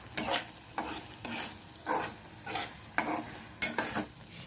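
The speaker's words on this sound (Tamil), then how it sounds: "நம்ம கொஞ்சமா மட்டும் நெய் சேர்த்துக்கலாம். நல்லா வந்து இதை மிக்ஸ் பண்ணிக்கலாம்" Kesari being stirred with a little ghee in a pan: about eight evenly spaced spoon strokes scrape and squish through the thick mixture with a soft sizzle, close up and with no talking.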